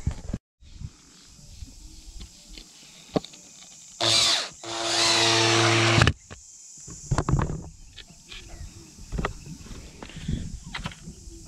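A power drill drives screws into a small wooden board on a post beside a raised garden bed, two short whirring bursts of a couple of seconds each, close and loud, with outdoor rustling and footsteps around them.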